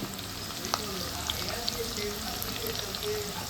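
Ingredients roast with a steady, fairly soft sizzle in a pan for Andhra-style chicken khurma with potatoes, and a few light stirring clicks come over the continuous frying hiss.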